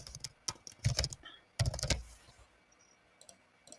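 Fingers type a search term on a computer keyboard in two quick bursts of soft, close key clicks with a short pause between them, then a few faint isolated taps.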